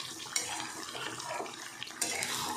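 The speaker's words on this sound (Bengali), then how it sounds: "এবার আমি জল দিয়ে দেব" Water poured into browned meat cooking in a pan, a short close gush of splashing liquid with a couple of faint clinks.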